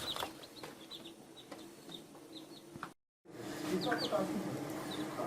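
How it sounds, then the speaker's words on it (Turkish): Busy chirping of baby chicks hatched in an incubator, with high peeps and clucks over a constant murmur, briefly cut to silence midway before the chatter resumes. "İşte arkadaşlar civcivlerimiz burada çalışmanın ürünü."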